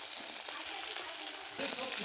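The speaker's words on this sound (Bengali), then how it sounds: "মাছ ভাজা হচ্ছে, নামিয়ে নেব।" Fish fries in a pan with a quiet, even crackling sizzle that swells slightly louder toward the end.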